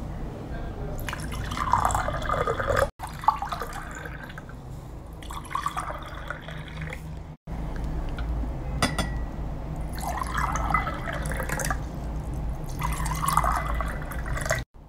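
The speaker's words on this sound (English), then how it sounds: "I'm going to fill these empty glasses with equal quantity of water." Water is poured into several empty glasses one after another, each fill a bubbling, gurgling stream that rises in pitch as the glass fills, with short pauses between pours.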